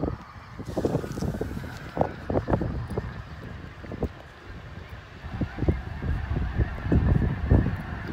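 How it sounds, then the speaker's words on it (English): Geese honk repeatedly at a distance, a scattered chorus of calls over rushing wind noise. "There go the geese over there,"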